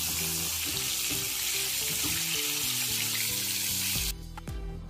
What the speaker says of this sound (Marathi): सगळ्यात शेवटी हाय फ्लेम करून चांगलं तळून घ्यायचं आहे